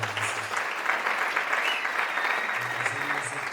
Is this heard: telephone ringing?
no